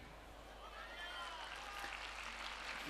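Audience clapping at a school annual function, a steady broadband patter of many hands sustained throughout, moderately loud and fairly distant, with a faint voice underneath.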